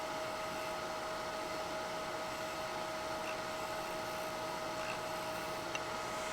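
A wood lathe spins a resin and sponge pen blank, giving a steady, continuous whir with a fixed tone running the whole time, loud and even, with no voices over it.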